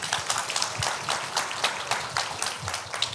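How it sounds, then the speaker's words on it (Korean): An audience at an academic conference session applauds after a presentation, a steady patter of many hands clapping at a moderate distance, with no speech over it. "박수 부탁드립니다."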